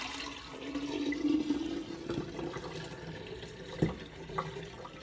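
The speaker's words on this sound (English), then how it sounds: "in the sink, I'm going to decant this grog because I think it's ready." Kava grog pours and splashes into a sink as it is decanted, a continuous liquid gurgle with a few sharper sloshes near the end, close and moderate in level, without speech.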